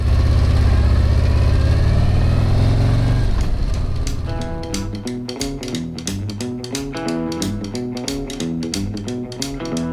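Harley-Davidson Road Glide, a 2024-or-later model fitted with OEM lower fairings, its engine running loud and steady up close, with a rough low rumble that settles into a rhythmic idle, no talking.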